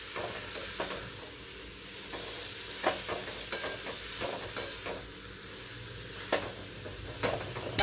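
Raw mango rice ingredients sauté in a pan with a quiet, steady sizzle, broken by intermittent scrapes and taps of a spatula stirring them.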